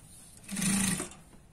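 A sewing machine runs a short burst of stitching along the corner of a dress neckline on a Punjabi dress, a single brief whir that swells and fades within about a second, close and fairly quiet.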